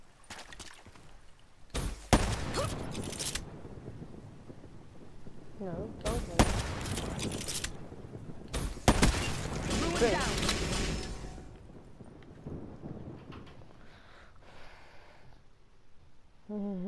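Gunfire bursts in Call of Duty: Black Ops III, several loud broadband volleys of machine gun fire separated by quieter stretches, with someone talking over the game in between.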